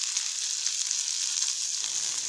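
Chopped onion and curry leaves fry in hot oil, giving a steady, close, hissing sizzle with small crackles throughout and no voices.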